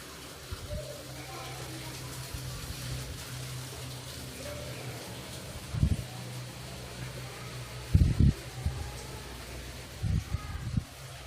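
Boiled potatoes fry in hot oil on a high flame, giving a steady, soft hiss throughout with a few brief low bumps from the pan.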